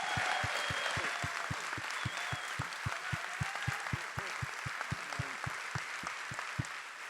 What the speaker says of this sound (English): So will you please give Zach a round of applause?